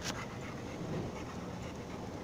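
A dog pants and whimpers close by, with a steady rush of heavy breathing and faint whines under a constant noisy background for a couple of seconds.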